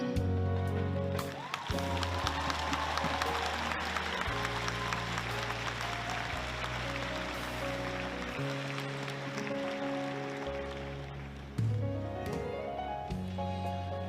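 Sustained applause from a crowd at a professional basketball league event, dense clapping filling the hall under loud music with steady chords, continuing for the whole stretch.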